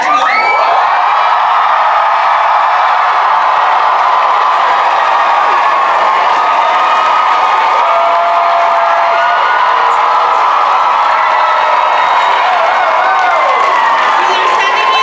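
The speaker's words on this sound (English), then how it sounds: "So can we all get a cheer for these people that are about to go on?" A large crowd waiting in line at a BroadwayCon blizzard party cheers for performers about to go on stage, a loud sustained wash of shouts, whoops and screams with some clapping, mostly high excited voices.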